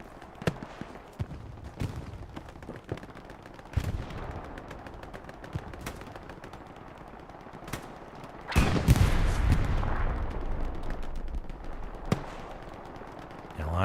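Bursts of MG42 machine-gun fire in a WWII D-Day video game, with scattered single gunshots and a dense sustained burst in the middle, loud and echoing over a busy battlefield backdrop.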